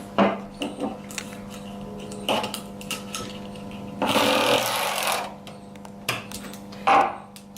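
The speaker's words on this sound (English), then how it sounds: "We are cutting the second part of the part B Coro sheet" Utility knife cutting a corrugated plastic coroplast sheet for a model aircraft tail roof, a scattering of short scratchy strokes and taps, then a louder sustained rasping slice lasting about a second, close to the microphone over a low background hum.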